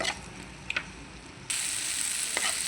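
Green chillies frying in a pan give a steady bright sizzle, quieter at first and then louder and denser after being stirred, with a few small clicks of a spatula.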